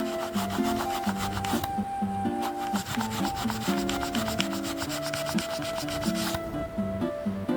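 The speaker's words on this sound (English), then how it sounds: "so now we're gonna scrub it and see if this comes off." A Nintendo Switch Lite in coral has its cross pad scrubbed clean, giving a steady, close rasping rub that runs throughout over continuous background music.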